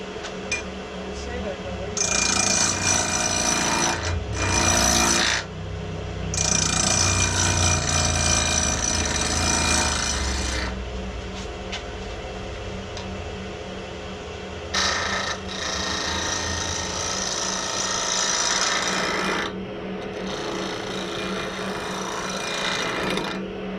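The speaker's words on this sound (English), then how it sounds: "now I'm going back to my little spindle gouge." A small spindle gouge cuts spinning wood on a lathe during a woodturning meeting, giving long harsh scraping and rasping passes with short breaks between them, close and loud over a steady motor hum.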